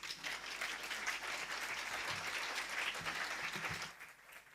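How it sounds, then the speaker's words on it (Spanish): A lecture audience at a talk on the Museo de Albacete and art gives steady, full applause that holds throughout and fades slightly at the end. "con un fuerte aplauso"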